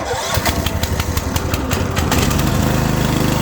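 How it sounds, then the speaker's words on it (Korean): An engine-powered high-pressure sprayer with a remote-controlled bypass valve starts up, its small engine sputtering in rapid pulses before settling into a loud, steady running drone close by. "처음에는 시동을 좀 걸어놔야 돼요"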